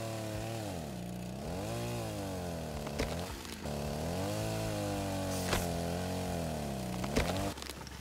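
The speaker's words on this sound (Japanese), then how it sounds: "レイドで奪ったチェーンソーを使って伐採しまくろうと思います" A video-game chainsaw felling trees runs as a loud, close engine drone that dips and rises in pitch as it bites into wood, with a few sharp clunks between cuts and a cutoff near the end.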